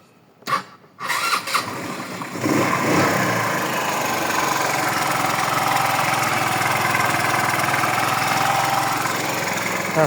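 A car engine in good condition turns over with a couple of sputtering bursts, then settles into a steady, continuous idle hum without smoking, carrying on evenly to the end.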